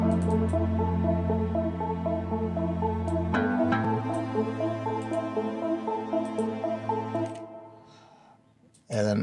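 A pluck synth from the Hive plugin inside an FL Studio Afro House track plays short repeating plucked notes in a steady rhythm over a sustained bass layer, fairly loud, fading near the end before a sharp final hit.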